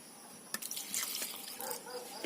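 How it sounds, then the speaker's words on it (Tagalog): Water is poured into a cooking pot while making a Filipino fish paksiw: a brief, thin trickle and splashing that comes in short bursts, quiet and close. "Lagyan natin ng konting tubig."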